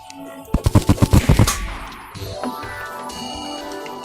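A Terraria weapon fires long straight explosions in rapid succession, about eight sharp bursts in quick rhythm, followed by a fading rumble and lighter game effects.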